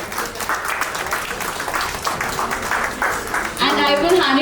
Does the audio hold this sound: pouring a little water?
no